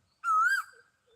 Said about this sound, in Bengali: আসলে কুকিল পাখির ডাক